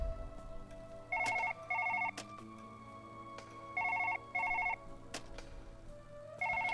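A telephone rings in Surgeon Simulator 2013 with a repeating double electronic ring, two bursts, a pause, then two more, sounding fairly quiet over clicks and faint game ambience.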